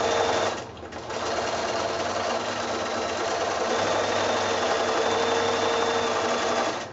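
Machine stitching on a quilted wall-hanging runs as a continuous close, even mechanical whir, briefly dipping near the start before holding steady to the end.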